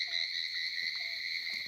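Frogs croaking at night in waterlogged fields, with faint short calls set against a steady high insect-like drone.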